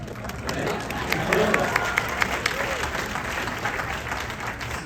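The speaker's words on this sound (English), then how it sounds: "Smattering of applause." A sparse, polite smattering of audience applause, scattered claps swelling briefly then thinning out over a murmuring room.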